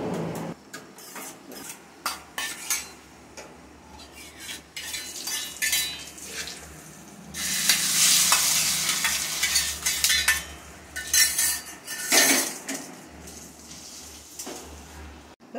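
Cashews fry in ghee in a pan with a soft crackling sizzle, punctuated by metal spoon clinks and stirring scrapes against the pan, swelling louder midway through and heard close with no talk.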